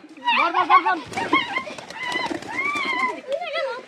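Pigeons coo and flutter nearby in a Bangladeshi village, their calls mixing with a voice talking over them.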